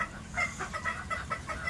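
Hens clucking while being fed, a rapid run of short, repeated clucks close by over a steady low background, with no talking.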